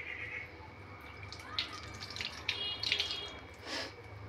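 Tap water runs steadily into a sink while dirty eggs are rubbed and washed by hand, with faint splashes and light knocks over the constant flow.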